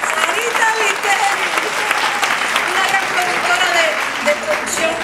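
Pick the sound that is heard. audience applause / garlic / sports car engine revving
audience applause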